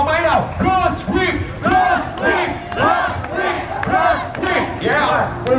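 A large crowd at a motor show chants and shouts in a steady repeated rhythm, loud and close, with rising cheering voices in each burst.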